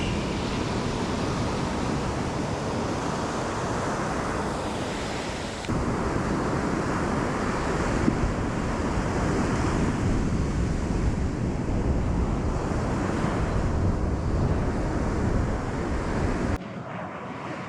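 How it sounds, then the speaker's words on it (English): Ocean waves break on the shore as a steady, broad surf roar with slow surges and some wind buffeting, with no voices. "Go record the waves"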